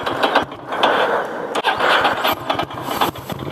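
A Ducati Monster 600 motorcycle engine cranks and catches, with a rapid ratcheting starter churn and mechanical clatter followed by uneven revving, close and loud.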